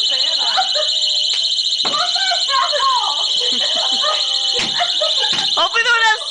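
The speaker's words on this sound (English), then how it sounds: "under the smoke alarm with a cig, and it went." A hotel room smoke alarm sounds continuously, a loud, steady high-pitched beep close by, while people talk under it.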